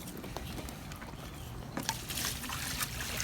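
Water is poured over a redfoot tortoise to clean it, starting as a faint trickle and swelling midway into a closer, brighter splashing pour that continues to the end.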